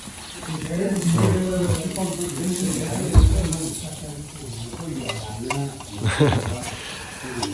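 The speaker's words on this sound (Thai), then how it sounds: "นี่เขาเริ่มปิ้งแล้วนะฮะปิ้งย่างแล้ว" Food cooks on a dedicated grill in a home kitchen in Lijiang, China, giving a steady close sizzle and fry under ongoing nearby conversation, with a few louder bumps.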